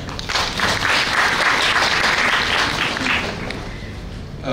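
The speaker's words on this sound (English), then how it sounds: "and we applaud you for that." Audience applause fills a law college panel discussion in Mumbai, a steady dense clapping from a crowd that holds for several seconds before tapering slightly near the end.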